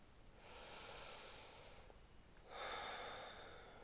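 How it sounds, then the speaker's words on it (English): Soft breaths drawn in and out during a seated yoga stretch for the shoulders, chest and neck: a long airy inhale, a brief pause, then a slightly louder exhale, close and quiet with no talk. "Breathing in and out."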